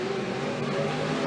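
Stock cars racing around a track, a steady, dense engine roar holding at constant loudness throughout with no clear pass-by or break.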